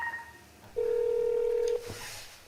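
A telephone dials to connect a call, giving brief tones followed by a steady ringback tone lasting about a second, set against a quiet background.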